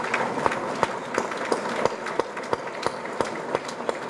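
An audience applauds a guest speaker at a policy event, with clapping heard as a steady run of sharp, regular claps over a dense background of many hands, fairly loud.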